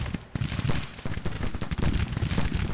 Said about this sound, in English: Getting a little bit of support from Armistead, who's also firing at some of these guys